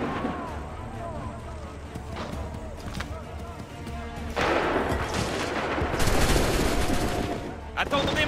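Musket volleys crack out in Assassin's Creed III as French commands are shouted, dense bursts of gunfire layered under the voices, swelling into a heavier sustained barrage toward the end.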